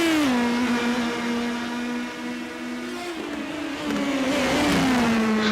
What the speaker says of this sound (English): Man, you can hear him really sliding these Cooper tires around.